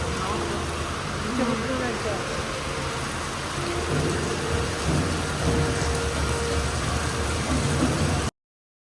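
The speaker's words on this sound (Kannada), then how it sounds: "ಮಳೆ ಅಂದರೆ ಮಳೆ ಮುಲ್ಕಿಯಲ್ಲಿ." Steady heavy rain with thunder pours throughout in Mulki, a dense hiss with low rumbling beneath and faint voices or passing traffic in the background.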